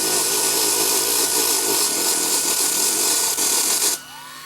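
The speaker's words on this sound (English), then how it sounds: "if you go over it with the Dremel" A Dremel rotary tool grinds over thick paint on an FMS B-25 model airplane, producing a loud, continuous, close buzz that cuts off near the end as the motor spins down, with no talking.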